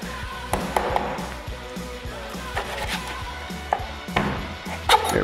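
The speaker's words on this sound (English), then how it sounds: "I just cut them in half. I like to use a nice kind of thick backed knife for that." A thick-backed knife splits fish collars in half on a cutting board, making a string of sharp chops and taps with a few heavier knocks, close and distinct against a faint background hum.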